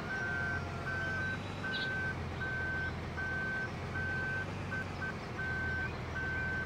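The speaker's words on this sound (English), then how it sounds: "Let's just try our hand at reversing." Steady electronic reversing beeps repeat at an even pace over a low vehicle engine rumble from a farm vehicle in Farming Simulator 2013, continuous and moderately loud, with no voices.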